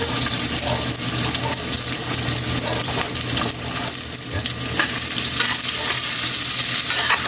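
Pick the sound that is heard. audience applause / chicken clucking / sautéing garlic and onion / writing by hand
sautéing garlic and onion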